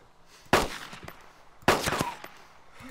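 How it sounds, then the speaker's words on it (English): Two sharp bursts of gunfire from shooting zombies in Arma 2 DayZ, each a loud broadband crack with a short ringing tail, about a second apart, with quieter game ambience between. "I'm just shooting the zombies"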